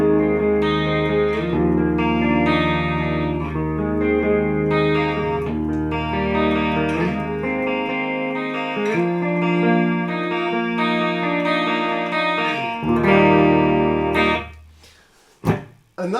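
Distorted electric guitar, an EVH Wolfgang Standard in the middle pickup position using both humbuckers, plays chords and single-note lines with a full, driven tone, ringing close and loud before cutting off abruptly near the end.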